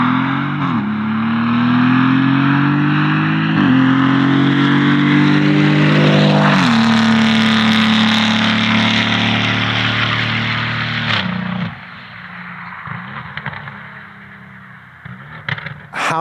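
Novitec-tuned Lamborghini Urus SE V8 SUV with sport catalysts, a deep throaty exhaust rumble that climbs through several loud rising revs, then drops to a quieter burbling idle with small blips near the end.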